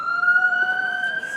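Police car sirens pass along a Cambridge street, a loud, steady wailing tone that holds almost level for the whole moment with no break.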